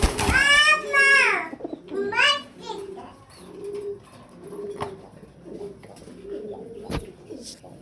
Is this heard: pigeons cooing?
yes